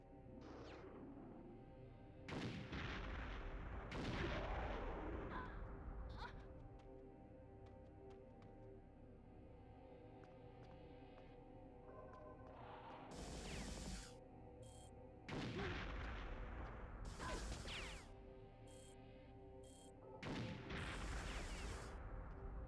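Devastator grenade launcher in the N64 game Perfect Dark fires several heavy, booming blasts, loud bursts at a few-second intervals over a steady game background hum with music.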